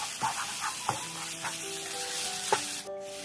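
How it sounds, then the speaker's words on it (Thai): Minced pork stir-fries in a hot pan with a continuous close sizzle, broken by a few sharp scraping knocks of the spatula. "จากนั้นก็ใส่หมูบดลงไปครับ ขยี้ขยี้ให้แตก ๆ นะครับ"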